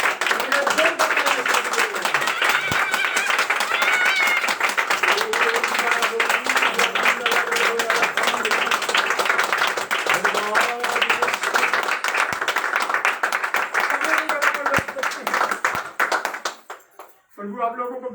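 A church congregation breaks into loud, sustained applause, dense rapid clapping filling the room for many seconds while a voice speaks over it, then fading out near the end.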